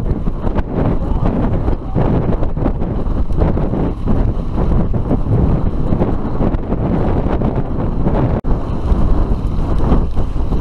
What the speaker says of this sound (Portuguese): Tá ventando podre.